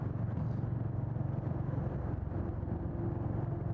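A Honda Hness motorcycle being ridden, its engine giving a steady, close low rumble with constant wind noise and no notable revving.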